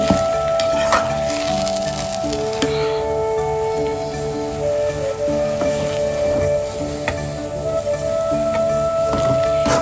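Ghee hits a hot pan of rava upma, or rava khichdi, with a loud, steady sizzle and frying crackle that runs continuously, with occasional stirring clinks over it.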